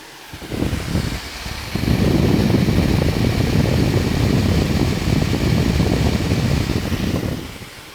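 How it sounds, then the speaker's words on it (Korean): A Hyundai Genesis G80 3.5 Turbo's air conditioner fan blowing hard at full speed, a loud steady whoosh that swells after a brief start and holds before easing off. "지금 에어컨을 맥시멈으로 틀어놓고 소리를 들어봤는데"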